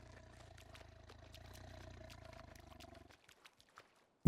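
A tiger in theHunter Call of the Wild hunting game gives a long, deep, rumbling roar that holds steady for about three seconds, then cuts off, leaving a few faint clicks and a sharp thump at the end.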